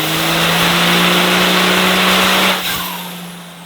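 A 1177 hp Cummins diesel truck revs hard on a dyno, a loud sustained engine roar with steady harmonic drone that drops off sharply near the end, leaving a fading rumble.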